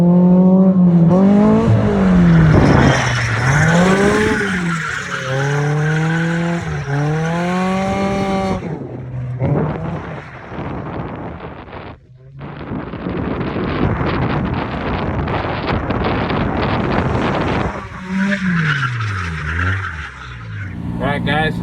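A Toyota AE86 drifts, its engine repeatedly revving up and down with skidding tires and heavy wind buffeting, loud and close, with brief quieter gaps between passes.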